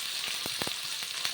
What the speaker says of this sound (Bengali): পেঁয়াজ কলিগুলো ভালো করে ভেজে নিয়ে একটু কমিয়ে নেব